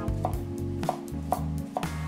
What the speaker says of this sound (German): So, Gurke in kleine, dünne Scheiben geschnitten, ab mit in den Salat.